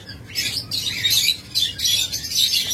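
A pair of lovebirds chirps in bursts of shrill, high tweets, close and fairly loud, with short pauses between the runs of calls.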